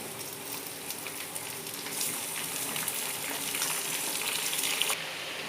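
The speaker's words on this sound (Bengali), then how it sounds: "এবার আমি এর মধ্যে মাংসগুলো দিয়ে দেবো।" Chicken pieces hit hot fried onions in a pan for a Bengali chicken curry, giving a steady close sizzle and frying hiss that swells slightly as the meat settles, with no talking.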